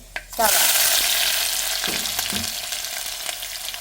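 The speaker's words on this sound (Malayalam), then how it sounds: "അപ്പോൾ കടുക് നല്ലോണം പൊട്ടി വന്നിട്ടുണ്ട്, ഉലുവയും പൊട്ടിയിട്ടുണ്ട്." Mustard and fenugreek seeds splutter and pop in hot oil, a loud burst of sizzling with scattered crackles that slowly settles.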